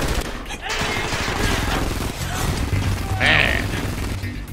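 Turret gunfire in the video game Frontlines: Fuel of War, a sustained mechanical rattle of rapid shots with a ringing metallic burst near the end, loud and close.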